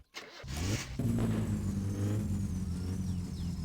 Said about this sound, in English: you can hear the revs getting low enough that it wants to stall unless I feather it